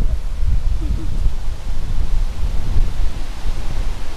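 A strong, cold wind blows across an agarwood tree plantation, a steady broad rushing hiss with low rumbling gusts, close and loud, with no clear talk.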